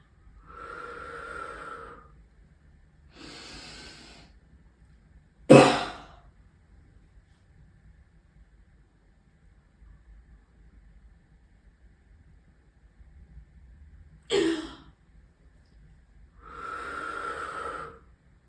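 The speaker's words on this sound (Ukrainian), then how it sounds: "Я зараз покажу вам, і ви побачите, в якому темпі ви зможете дихати" Bodyflex breathing exercise with repeated breaths taken without pauses: several audible inhales and exhales spaced across a quiet room, including two sharp, forceful bursts of breath amid softer airy breaths.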